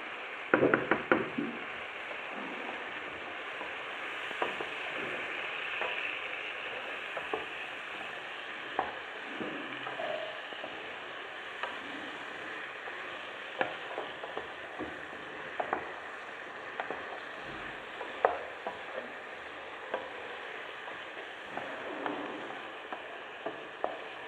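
Carrots and green pepper fry in a pan with turmeric, cumin and fennel for a potato, vegetable and chicken gratin. A steady close sizzle runs throughout, broken by frequent scattered spoon knocks and stirring scrapes, with no talking.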